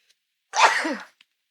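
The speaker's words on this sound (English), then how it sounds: "Oh, sneeze." A single sharp sneeze, close and fairly loud, with brief quiet before and after.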